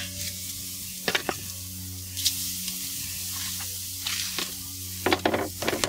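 Marinated steak sizzling on the direct-heat side of a grill, a steady crackling fry with occasional sharper pops and spatters, close and continuous with no talk.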